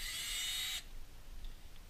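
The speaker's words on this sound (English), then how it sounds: "I've got a little hand drill, and this is just going to be for undoing everything." Small hand-held power drill runs steadily for under a second as it backs out a metal stud from the sole of a Korkers Darkhorse wading boot with aluminum hex disk soles, then cuts off abruptly, leaving quiet room tone.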